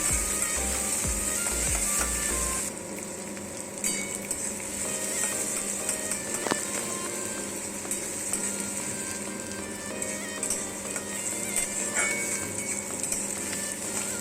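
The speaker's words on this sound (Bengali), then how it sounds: "পেঁয়াজটা ভালো করে ভেজে নেব লাল লাল করে।" Chopped onions with black cumin frying in oil, a low continuous sizzle with occasional faint scrapes and clinks, steady and close throughout.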